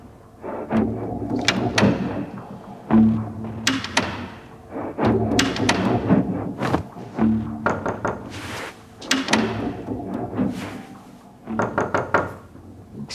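Someone knocking at a wooden door in an indoor scene: several groups of heavy, hollow thuds spaced across the span, close and loud, with short pauses between rounds.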